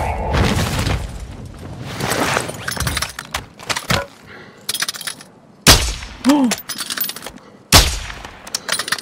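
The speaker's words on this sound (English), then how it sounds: "Bomb" Bomb explosions and gunfire in Call of Duty Warzone arrive as a series of sharp booming bursts separated by gaps, loud and close, with faint voices in between.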